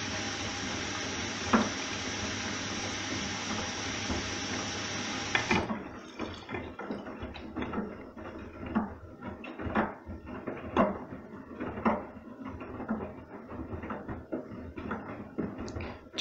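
Water pours steadily for several seconds, then gives way to sloshing and splashing in uneven bursts as a washing machine tumbles a load of dark laundry on a 40° mix cycle.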